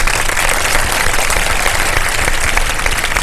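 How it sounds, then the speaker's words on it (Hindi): A studio audience at a Ramadan iftar television show applauds, loud, dense, steady clapping that fills the whole stretch with no talking over it. "भरपूर तालियां बजा दीजिए एक दफा।"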